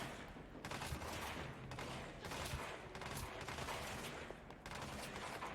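Enemies in the video game Control fire at the player in repeated volleys of gunshots. The fusillade is fairly faint and distant, coming in bursts with brief gaps between them.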